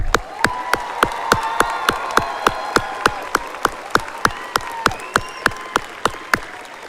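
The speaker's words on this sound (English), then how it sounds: "One more round of applause for this group." A high school graduation crowd in La Porte applauds the graduating group, sustained loud clapping mixed with cheers, while one close clapper gives sharp, steady rhythmic claps over the top.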